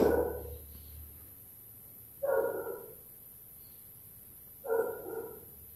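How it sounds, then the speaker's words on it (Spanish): A female dog barks in three short bursts spaced a couple of seconds apart, fairly close, over a faint steady background hum with no talking. "Esa es la perra que le está ladrando a quién sabe quién"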